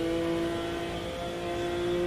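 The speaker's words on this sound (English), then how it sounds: "It's a McLaren GT1." McLaren GT1 race car in the video game Automobilista 2, its engine holding a steady, loud droning tone with a strong constant pitch for two seconds, no voices.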